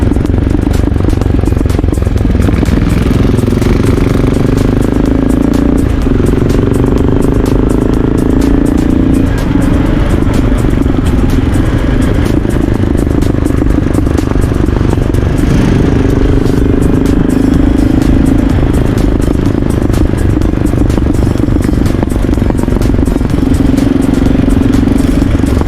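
Motorcycle engines rumble continuously at close range on a group ride along Sardinian roads, with a steady roar and occasional shifts in pitch as the bikes ride along, loud throughout.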